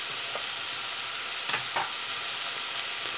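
Onions and vegetables for a soup frying in a pot while being stirred, a constant close hiss of sizzling broken by a few soft scraping strokes of a spoon.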